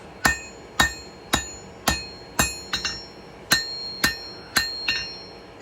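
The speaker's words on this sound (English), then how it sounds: "we're going to go back to the anvil and start refining and shaping that handle a little bit more" High carbon steel is hammered on an anvil during blacksmith forging of a blade handle: about a dozen sharp, ringing metallic strikes at a steady, brisk rhythm, close and loud, each blow decaying quickly, with no talking.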